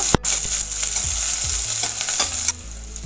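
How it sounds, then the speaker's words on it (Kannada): A medium-sized onion sizzles loudly in hot oil with cumin seeds in a pan, steady frying hiss with intermittent stirring scrapes, close and continuous without any talk. "ಈರುಳ್ಳಿ ಒಂದು ನಿಮಿಷ ಫ್ರೈ ಆಗಬೇಕು"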